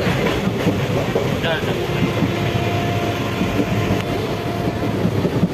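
A local passenger train running along the rails, heard from on board as a steady, loud rumble with rhythmic clatter throughout, faint voices mixed in.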